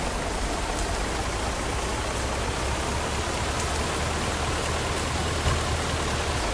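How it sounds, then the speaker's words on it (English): Steady rain falls heavily during a storm chase, a dense, even hiss of drops pattering on surfaces close by for the whole stretch, with no voices. "Here comes the rain."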